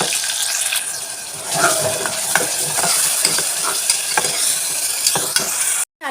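Onion paste goes into hot frying spices in a pan for mutton paya, a bright continuous sizzle broken by repeated spatula scrapes and small clicks, loud and close, cutting out abruptly near the end.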